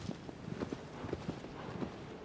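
Horse hoofbeats while riding through a coastal area in Shadow of the Colossus, played on PS4. Soft, steady clip-clop strikes repeat about twice a second in a loose gallop rhythm, moderately near over a low ambient bed.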